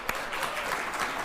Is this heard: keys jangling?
no